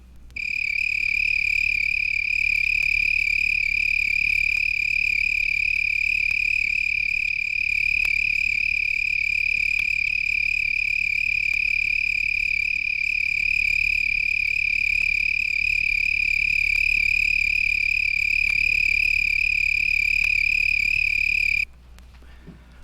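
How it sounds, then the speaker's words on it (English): A broad-winged tree cricket, Oecanthus latipennis, singing on weeds at night: one loud, steady, continuous high trill that runs unbroken for over twenty seconds, then stops abruptly near the end. "Another tree cricket found on weeds is a broad-winged tree cricket, Acanthus latipennis, which sings mostly at night"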